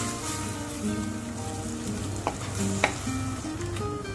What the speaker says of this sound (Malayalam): നന്നായിട്ട് നമുക്കൊന്ന് വഴറ്റിക്കൊടുക്കാം.